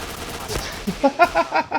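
Rapid gunfire in the shooter game Point Blank, a quick string of five or six sharp shots in the last second, preceded by quieter rustle and noise.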